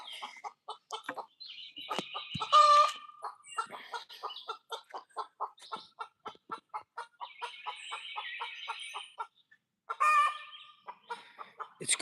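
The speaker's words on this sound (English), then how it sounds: "You hear the chickens? I think she just laid an egg." Hens clucking close by in repeated short rhythmic bursts, with a few louder squawking calls like a hen after laying an egg, heard alone in a quiet setting.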